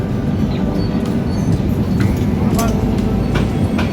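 Inside the Howrah–SMVT Bengaluru superfast express halted at Palasa station, a low rumbling hum of the coach carries steady background noise, with occasional metallic clinks and faint voices in the carriage.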